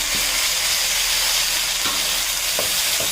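Tomatoes go into a pan of sautéed onions with curry leaves for a Tamil Nadu style tomato chutney, giving a steady loud sizzle and hiss with a few soft stirring knocks.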